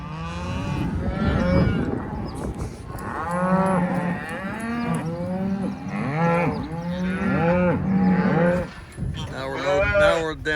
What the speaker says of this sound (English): We have to sort a bunch of cows, a bunch of little calves.